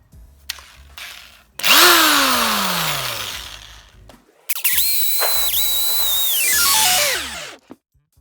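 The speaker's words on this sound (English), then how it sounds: "I'm going to drill all the holes." Power drill boring holes in wood while assembling wooden parallettes: two loud bursts, the first with a motor winding down in pitch, the second a sustained high whine that bogs and stops, separated by brief pauses and small knocks.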